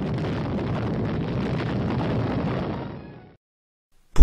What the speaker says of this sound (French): explosion atomique pourtant destinée à décimer des milliers de personnes en une fraction de seconde